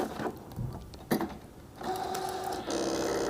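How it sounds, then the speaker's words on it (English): A vinyl cutting machine starts up to cut an RC car body mask, with a few clicks and mechanical knocks followed by a steady whirring, buzzing motor drone that grows louder near the end. "And you can now see the machine starting."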